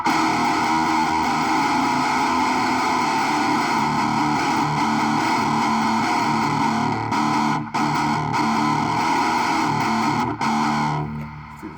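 Electric guitar played through an amp with the distortion knob set to zero, yet still a dense, buzzing, effects-laden tone that rings steadily for several seconds with a few abrupt cutoffs and fades out near the end.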